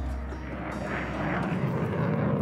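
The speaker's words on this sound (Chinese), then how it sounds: "这战斗机的声音太离谱了， 这涡喷的这个声音。" A turbojet fighter jet engine roars loudly and steadily from close by, a dense continuous blast with no break.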